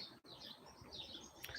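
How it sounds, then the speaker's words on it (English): Birds tweeting outdoors on a spring day, faint high chirps scattered over about two seconds with a brief brighter call near the end. "I'm not sure if you can hear the birds tweeting"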